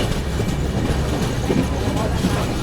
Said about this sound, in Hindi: चलो यहाँ पर ट्रेन जो है अपनी बस्ती अराइव कर रही है और लूप में लेकर के हमें रोका गया है।